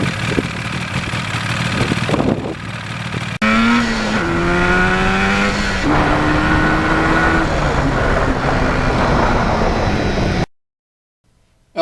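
A 1977 Yamaha RD400 two-stroke motorcycle engine runs in cold weather, idling then revving up through rising and falling pitches, loud and close, before cutting off abruptly near the end.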